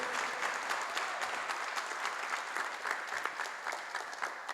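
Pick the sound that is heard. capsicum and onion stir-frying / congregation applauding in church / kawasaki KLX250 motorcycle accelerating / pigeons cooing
congregation applauding in church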